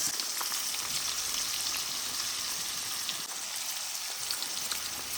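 Onions fry in hot oil for a hilsa fish curry, a dense, close crackling sizzle like rain on a surface that holds steady throughout, with no talk.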